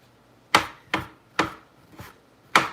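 Cabbage and shiitake are chopped finely on a board with five crisp, sharp knife strikes at uneven intervals, close and clear, with no talking.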